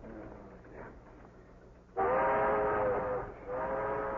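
A train runs along a mountain rail line with a low rumble, then a loud, sustained horn blast sounds up close, pauses briefly and sounds again.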